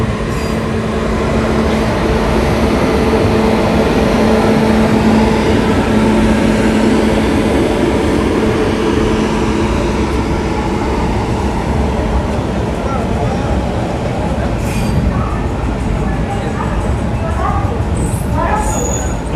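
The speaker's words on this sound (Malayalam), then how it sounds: "അവിടെ നിന്ന് ഒരു ട്രെയിൻ വരുന്നുണ്ട്." A train approaches on the Tirupati line near Katpadi Junction, a loud continuous rumble of wheels on rail that holds steady throughout, with faint squeals near the end.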